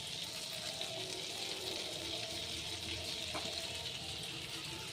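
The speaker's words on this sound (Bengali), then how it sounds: "বাটার দিয়ে নিয়েছি, দেখো বাটারটা হালকা হালকা মেল্ট হচ্ছে।" Nutrilite butter melting in a hot pan for butter garlic prawns gives a steady, soft sizzle and faint bubbling hiss that runs evenly throughout, fairly quiet and close, with no talk over it.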